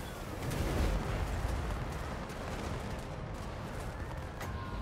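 Gunfire and distant booming from a video game battle, a steady wash of shots and rumbling impacts at moderate volume, with a louder swell early on before settling into continuous background combat noise.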